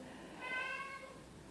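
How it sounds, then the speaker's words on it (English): A cat gives a single drawn-out crying meow indoors, faint and somewhat distant, over a quiet room background. "that's my cat Watson crying"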